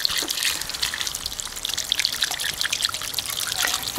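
Water from a garden hose splashes and trickles continuously outdoors, a bright hissing spray with uneven spatters, close and fairly loud.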